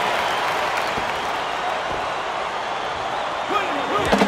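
Crowd noise from a basketball arena in College Hoops 2K7, Michigan Wolverines against Ohio State Buckeyes, roars as a steady, loud wash throughout, with a few sharper swells near the end and commentary voices mixed in.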